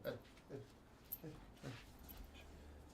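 A sleepy puppy gives several soft, short whimpers and whines close by, spaced out over a few seconds, with quiet breathing and low background noise between them.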